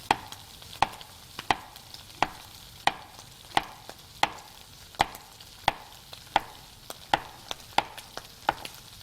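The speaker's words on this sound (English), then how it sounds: "I'm just going to cut this into half moons" A knife chops a scrubbed, washed vegetable into half moons on a cutting board for shrimp and couscous, giving about fifteen crisp, close knocks at a steady rhythm with no one talking.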